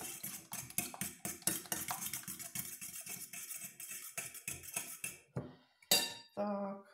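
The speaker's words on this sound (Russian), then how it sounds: "Хорошо перемешаем, чтобы сахар растворился надо." Cutlery scraping and clinking steadily against a bowl as vanilla-flavoured pancake batter is stirred to dissolve sugar, a run of close, rhythmic strokes ending in a few separate taps.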